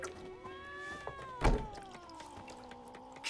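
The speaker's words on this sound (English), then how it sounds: "Oh, the cat opens the door." A cat in a fantasy role-playing game gives a drawn-out, wavering meow close by, cut by a single dull thunk of a door partway through, over a low ambient background.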